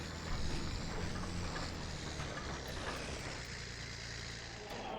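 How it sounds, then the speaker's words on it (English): A tractor engine in the Farming Simulator video game drones steadily and fairly faintly, a continuous low hum with no change in pace and no talk over it. "Interesting tractor for sure, but sounds kind of weird."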